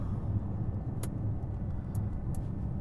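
Inside a Bugatti Chiron on the move, a steady low rumble of engine and road fills the cabin, with a few faint light clicks and no talk.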